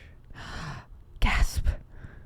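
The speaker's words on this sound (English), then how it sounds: "Gasp." A single sharp, breathy gasp from a person, followed by a second, louder gasping intake of breath, heard close and alone.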